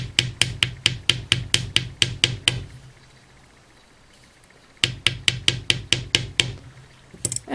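A hammer lightly taps wire being shaped into earrings. Two runs of quick, evenly spaced close taps are separated by a short quiet pause.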